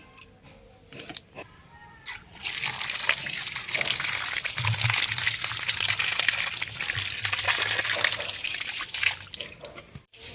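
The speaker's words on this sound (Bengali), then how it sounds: "এবারে আমি মাছগুলোকে ভালো করে চকটে চকটে জলের মধ্যে ধুয়ে নেব।" Small mourola fish being rinsed and rubbed in a bowl of water, a steady wet splashing and gushing that starts after a couple of seconds and runs loud and close for most of the clip, with no talking.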